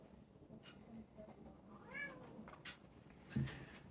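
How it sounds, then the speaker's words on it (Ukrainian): A cat meows once, fairly faint and slightly distant, in a quiet room with a few soft clicks and rustles around it. "Я мушу пустити кота, тому що інакше він буде нявчати"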